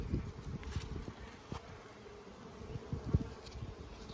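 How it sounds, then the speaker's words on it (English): Honey bees buzz around a Langstroth hive frame during a spring inspection, a low, steady drone close by with scattered louder passes as individual bees fly near, alone without talk. "There were bees on it."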